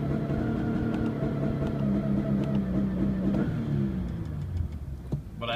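A Scion FR-S, Subaru BRZ or Toyota 86 running EcuTek RaceROM launch control drones steadily near 4,000 RPM at full throttle in first gear with the clutch down, then the note dips and fades near the end.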